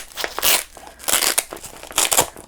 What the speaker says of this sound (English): Sorry for the noise, for the Velcro noise